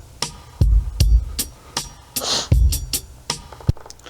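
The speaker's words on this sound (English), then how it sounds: "So my drums sound like this." Drum loop at 78 BPM played back on an MPC Live 2, with punchy kicks, snappy snares and hi-hats in a steady, sparse groove, heard alone and fairly close.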